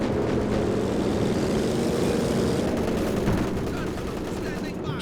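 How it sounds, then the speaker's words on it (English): A flak half-track in Company of Heroes 2 fires at aircraft during a 3v3 match: dense, continuous anti-aircraft gunfire mixed with plane engine drone, steady and loud throughout. "we got a flak half track now from Wongi, looking to shoot them down faster"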